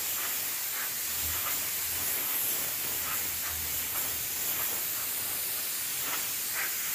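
A spray paint can sprays a white base coat onto a painting in a steady, close, continuous hiss. Brief soft pulses break the spray as the nozzle moves.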